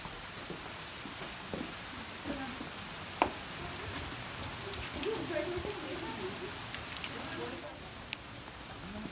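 Steady light rain patters and hisses in the background, with faint indistinct voices and occasional drips.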